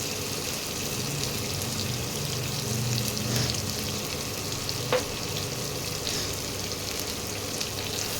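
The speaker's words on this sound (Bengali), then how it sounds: "মশলাটা ভাজা ভাজা হয়ে এসছে।" Spice masala with turmeric frying in a pan for a curry, giving a steady soft sizzle throughout with a faint clink near the middle, no voices.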